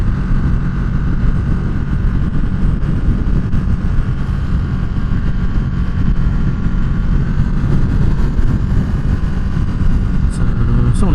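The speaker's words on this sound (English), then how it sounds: "it's a good sounding stock exhaust, as good as a stock exhaust will sound" Motorcycle engine rumbling steadily through a stock exhaust while riding, its low drone mixed with constant wind buffeting on the microphone.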